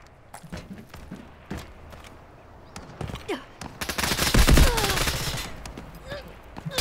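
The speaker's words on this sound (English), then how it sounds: "I believe Biz is getting shot at." Gunfire in a video game: scattered single shots at first, then a dense burst of rapid automatic fire in the middle, with shots near and far over a low rumble.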